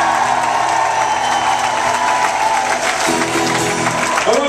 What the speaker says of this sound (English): Give him a fucking round of applause.